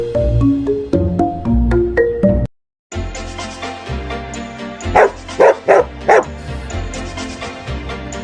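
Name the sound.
dog barking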